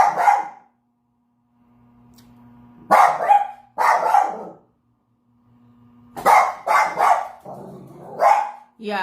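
A dog barks in several sharp bursts, two early and a run of three or four later, loud and close with pauses between, while a faint low hum runs underneath.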